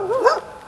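A dog gives one short, loud, yelping bark close by near a riverside dam during a carp fishing trip on the Olt, with a whine-like pitch rise and fall, then light background noise.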